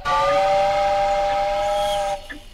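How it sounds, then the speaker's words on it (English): A small steam whistle on a homemade steam-driven beam engine gives one loud, steady toot lasting about two seconds before cutting off sharply, heard close up and alone. "It really is a lovely little steam whistle."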